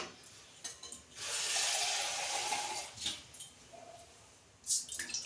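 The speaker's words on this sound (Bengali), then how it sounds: "কড়াই জল দিচ্ছি।" A soft, hissing pour of water runs into a wok for about two seconds, quiet and close, followed by a few faint drips and small knocks.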